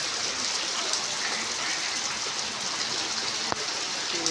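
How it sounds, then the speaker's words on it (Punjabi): Heavy early-morning rain pours down in a steady, dense hiss of water, with one sharp knock near the end and no talking. "ਬਹੁਤ ਜ਼ਿਆਦਾ ਮੀਂਹ ਆ"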